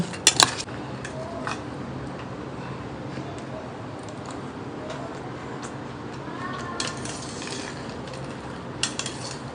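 Chutney mixed with lemon in a bowl at home, with a steady soft squishing and scraping plus a few sharp clinks of a utensil against the bowl near the start and end.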